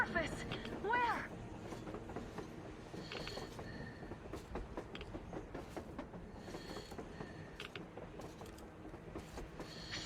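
Train moving across the open surface in the post-apocalyptic video game Metro Exodus, a steady rumbling rail roll with faint clanks and a brief squeal near the start, heard at a distance under game ambience with talking voices.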